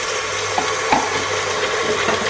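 Onions in a hot pan sizzle in a loud, steady hiss at close range, with a couple of faint stirring scrapes and no voices.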